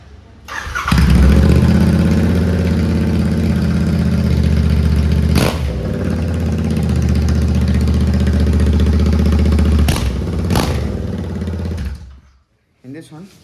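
A Royal Enfield Interceptor 650 twin starts up with no exhaust fitted and runs loud and raw at close range. It blips twice to higher revs before it cuts off and goes quiet.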